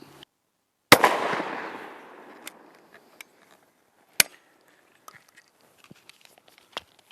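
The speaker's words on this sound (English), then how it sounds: "Okay, we've taken our shot from a prescribed distance." A single loud shotgun blast goes off at a pattern target and rolls away over about a second, followed by scattered small clicks and handling taps.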